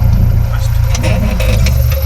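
A four-wheeler car's engine runs with a steady low rumble during a first-time driving attempt, with a voice talking over it.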